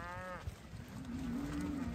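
Cows moo in an upstate New York pasture, a long sustained low call running through most of the moment, with an earlier higher call fading in at the start over steady outdoor background noise.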